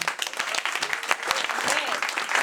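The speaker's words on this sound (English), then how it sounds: "Big round of applause for Hannah." An audience at a Labour for Palestine event applauds, individual claps clearly audible and fairly close, with a voice speaking over the clapping.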